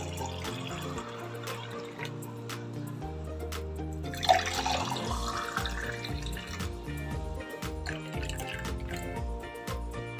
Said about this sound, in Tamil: இப்போ இதை வந்து டம்ளருக்கு ஊற்றிடலாம்.